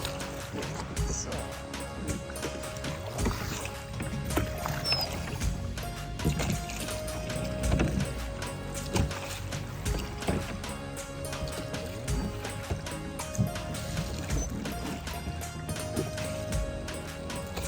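A boat glides across a lake in Slovenia, with steady rhythmic knocking and water sloshing against the hull, a continuous moderate rumble and faint background voices.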